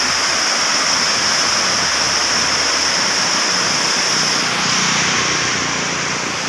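Water rushes through a barrage on the Sutlej river as a loud, steady, broadband roar with a constant hiss, unbroken from start to finish and with no voices over it.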